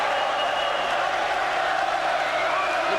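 Boxing crowd at the Eubank vs Collins fight cheering and applauding loudly in a steady, dense roar throughout.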